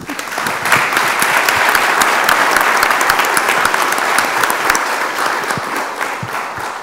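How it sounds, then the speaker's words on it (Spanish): Audience applause at a regional public services conference on water for all, steady dense clapping throughout, loud and close, with no talk over it. "Un aplauso."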